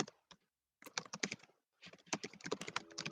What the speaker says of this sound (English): Hey Doug, is that you typing?